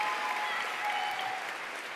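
A crowd at a high school graduation ceremony applauds steadily, a dense wash of clapping that holds at an even level throughout.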